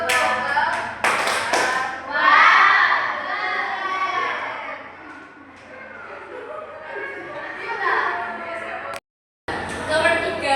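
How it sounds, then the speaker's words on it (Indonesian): Children in a maths classroom clap along in a rhythmic 'tepuk wow' chant, with bursts of sharp handclaps mixed with their chanted and shouted voices, loud and close, broken by a brief silence near the end. "Kasih tepuk wow."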